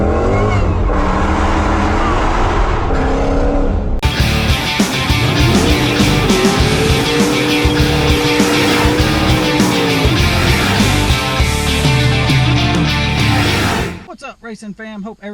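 A boosted stick-shift Dodge Challenger R/T Shaker accelerates hard under power shifting, a loud, roaring engine pulling continuously with brief shifts before it cuts off near the end.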